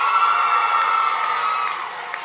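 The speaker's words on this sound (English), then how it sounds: "That was a lot more than 52 cheering for Florida." A ceremony audience cheers loudly for Florida, a sustained roar of shouting and whooping voices that holds steady and tapers slightly at the end.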